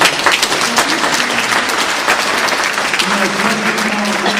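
Applause from an audience at a live Christmas Eve nativity in Sarrancolin, dense clapping sustained throughout, with voices and a tonal sound partly audible under it.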